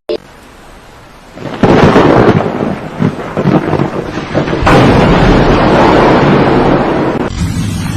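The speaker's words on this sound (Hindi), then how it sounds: "जोरों से वर्षा शुरू हो जाती है" Heavy storm rain pours down with deep rolling thunder, loud and continuous, swelling into a dense roar that carries on without letting up.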